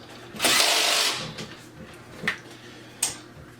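A power drill or driver bursts on for about half a second while tightening screws during assembly of a cheap K-shaped PC gaming desk, followed by two short clicks or ratchet-like taps in a quiet room.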